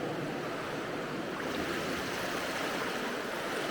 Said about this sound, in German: Ja, und da schwappt es hier hoch.